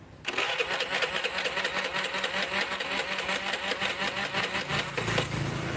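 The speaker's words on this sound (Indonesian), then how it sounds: "Jadi starter nyala. Gas, digas." A motor scooter engine cranks on the starter and catches, then revs steadily with throttle blips, loud and close, running continuously after starting; the yellow-red wire has been disconnected from the CDI and grounded directly to the battery, and the scooter is weak and underpowered.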